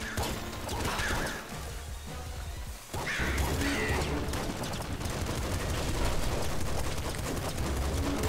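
Revolver gunfire in the video game Nuclear Throne, a dense run of rapid shots and crashing impacts layered with game sound effects, loud and continuous, with a short dip near the middle.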